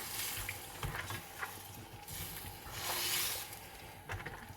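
Dal gosht with lamb and tomatoes being stirred in a cooking pot after water is added, giving a steady wet sizzle with soft scraping and sloshing strokes, close and alone with no talk.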